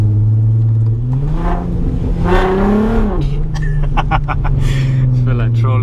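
A VW Golf R32 engine drones loudly and close, then blips sharply with a quick rise and fall in revs during a downshift before settling back to a steady hum.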